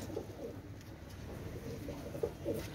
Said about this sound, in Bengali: ভিউয়ার্স আপনারা লক্ষ্য করেন অনেক সুন্দর কবুতর